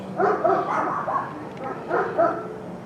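Several dogs bark and yip in short bursts after smoke bombs are set off outdoors, two clusters of fairly close barks separated by a brief lull, with no talking.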